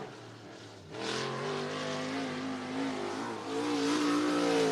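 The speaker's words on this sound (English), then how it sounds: "23rd car to hit the racetrack here in qualifying for the IMCA Modifieds" An IMCA Modified race car revs hard on a dirt speedway during qualifying, its engine suddenly rising to a loud sustained drone after a quiet first second, with pitch shifts as it works around the track.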